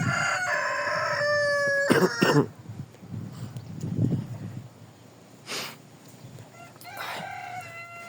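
A rooster crows loudly twice in a barn where chickens are housed together with geese, with quieter clucks, snorts and shuffling between the calls; no one speaks.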